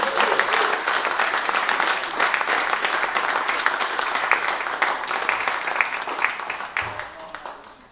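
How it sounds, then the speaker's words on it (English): Applause from an audience at an evening event fills the room, a steady, dense patter of many hands that carries on for several seconds before tapering off near the end. "let's give him a round of applause"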